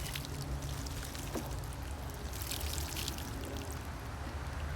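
Water poured onto a garden plant splashes continuously for several seconds, a close, even gush with faint trickling on top and no voices.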